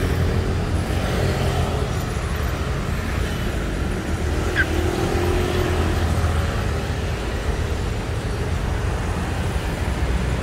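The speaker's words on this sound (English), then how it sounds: "A lot of traffic at the moment." Street traffic on Wireless Road in Bangkok's central business district, heard as a dense, even roar of passing vehicles with a low rumbling undertone and no clear breaks, steady and moderately loud throughout.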